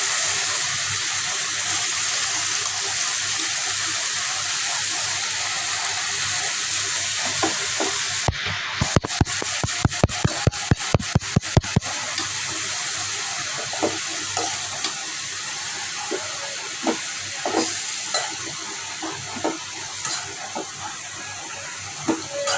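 Leafy greens fry and are stirred in a pan, giving a steady close sizzle broken by a burst of rapid sharp scraping strokes in the middle and scattered lighter taps afterward, with no talking.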